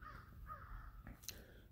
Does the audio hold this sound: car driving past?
no